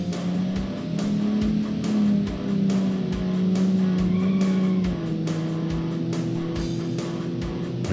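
A car in BeamNG.drive labouring uphill, its engine droning steadily at strained, shifting pitch throughout, near and continuous with no talk over it.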